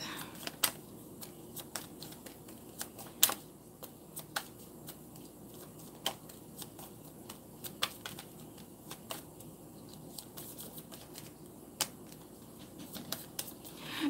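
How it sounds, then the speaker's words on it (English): Tarot cards are shuffled by hand in a soft, irregular pattering of light flicks and taps, close and fairly quiet, with occasional sharper snaps and no talking. "it's hard just shuffling a few cards"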